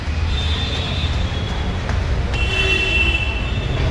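Steady rumble of a Mumbai metro train in motion, with a constant low roar and occasional high squeals and tones from the wheels and cars.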